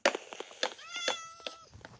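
A cat meows several times in quick succession, one drawn-out tonal meow in the middle, fairly close and clear, with no talking.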